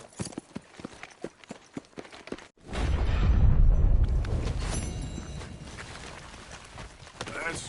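Horse galloping in Red Dead Redemption 2, a quick run of hoofbeats giving way to a loud, rumbling gallop that thunders close by and then settles into a steady rhythmic pounding.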